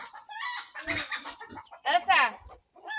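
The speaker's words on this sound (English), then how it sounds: "The chickens are invading." Chickens cluck and squawk up close in a tropical backyard in the Philippines, with several sharp bursts and one louder outburst near the end.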